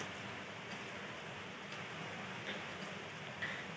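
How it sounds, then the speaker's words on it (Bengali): Heavy rain falls outside during a power cut in the afternoon. It comes through as a soft, steady, even hiss with no voices. "আর খুব বৃষ্টি পড়ছে এখন"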